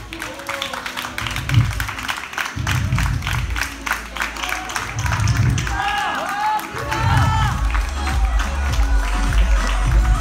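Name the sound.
audience applause at a company convention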